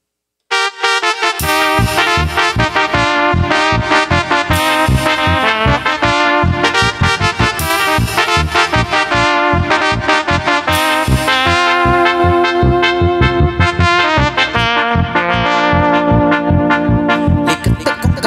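Corrido song about Guatemala with strummed guitar and accompaniment, a steady rhythmic strumming pattern with dense harmonic chords, loud and continuous after a brief silent start.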